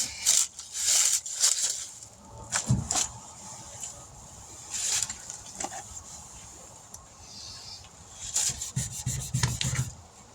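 Rough scraping strokes of sanding come in bursts on a 1996 Dodge Ram 1500 truck body panel, close by, with brief pauses between passes of abrasive rubbing against the hard surface.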